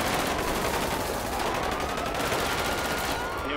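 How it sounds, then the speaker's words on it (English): Heavy gunfire in GTA, a loud, continuous burst of rapid automatic shots layered over one another, dense and relentless across the whole stretch with no pauses or talk. "I'm hearing crazy fire."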